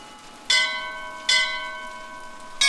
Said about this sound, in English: imagine that's how many times you ring each bell